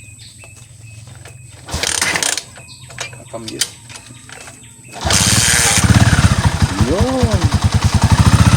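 A Honda TMX125 Alpha motorcycle with a hard-starting, stalling engine: a few mechanical clicks and brief rattles under a voice, then the engine catches and settles into a loud, steady, throbbing idle up close while he keeps talking.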